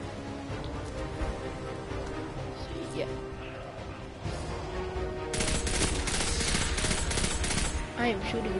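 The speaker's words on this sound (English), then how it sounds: "I am shooting down everything that gave me trouble." Gunfire in the video game Destiny 2, with dense bursts and rapid fusillades that grow heavier and more continuous in the second half, layered with in-game effects.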